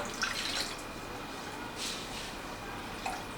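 Rosogolla dough made with raw mango, wrung by hand to press out water, giving faint wet drips and soft squishing over a low background hiss, with a couple of brief splashy bursts.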